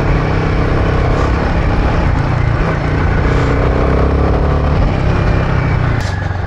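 Royal Enfield Himalayan 450 motorcycle ridden through thick mud on a trail on stock tyres: loud, continuous engine drone heard close up, with slight rises and falls in revs and wind rush throughout.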